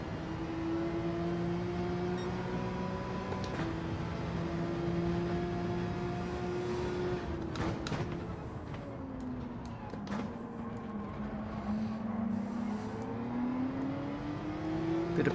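Porsche race cars in Gran Turismo 7 rev and drone steadily through a race, engine pitch holding, dipping and climbing again as gears shift, loud and continuous with no talk.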